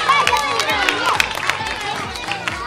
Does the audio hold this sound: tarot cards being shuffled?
no